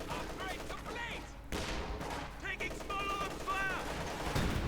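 MG34 machine gun fire from the Company of Heroes 2 battle rattles in bursts amid other gunfire and explosions, with a commentator's voice over the fighting.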